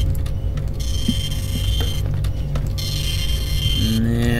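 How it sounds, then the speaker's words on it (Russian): A printer running in the horror game Husk, steady mechanical whirring and ratcheting with clicks and intermittent tonal whines, loud and continuous, with no speech. "Принтер все никак не успокоится."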